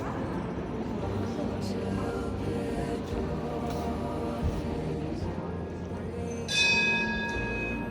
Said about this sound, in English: So they're ringing the bells here,